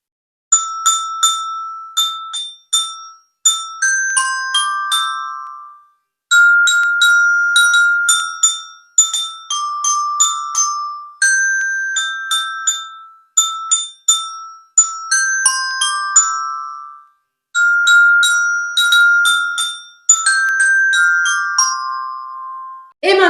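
A mini metallophone plays the tune of "Vive le vent" in clear, bright struck notes, grouped into phrases with short pauses, ringing alone and up close.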